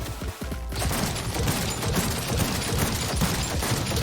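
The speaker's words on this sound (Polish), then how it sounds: "I dlaczego strzelają na tak małej przestrzeni?" Loud, rapid bursts of gunfire crackle almost without pause, a dense volley of shots from a Cyberpunk 2077 firefight in a small space.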